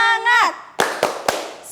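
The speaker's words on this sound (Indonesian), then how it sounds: "berdiri untuk tepuk semangat biarin lebih seru, lebih ceria" A school class stands and performs the tepuk semangat chant: a sung voice gives way to three sharp, evenly spaced group claps, close and loud.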